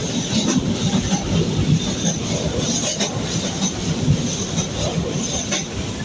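LRT Line 1 light rail train passing, a steady broadband rumble and rushing roar that stays loud throughout without clear breaks.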